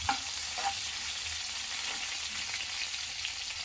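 Onions frying in a pan for vegetable upma give a steady, close, even sizzle with a few faint stirring touches near the start.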